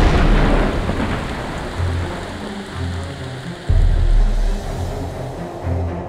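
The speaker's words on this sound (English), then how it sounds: "Dramatic storms are common." A summer thunderstorm on the Tibetan plateau: heavy rain pours steadily and loudly while deep thunder rolls and rumbles swell and fade, with one sharper surge of rumbling partway through and no voices.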